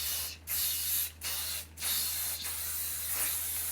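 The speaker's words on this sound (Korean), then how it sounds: "저는 꼭 액체형 스프레이를 해주거든요" Liquid hair spray misted onto a man's styled hair, heard as several close, steady hissing bursts of spray with short gaps between them and no talking.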